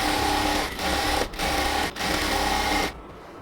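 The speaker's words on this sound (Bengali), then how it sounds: "ঘন সেলাই দিয়ে এবার আমরা উপরের দিকে আস্তে আস্তে সেলাই করব" A sewing machine runs steady dense stitches up a salwar pant leg, a loud continuous mechanical whir broken by two brief pauses before stopping near the end, with no talking.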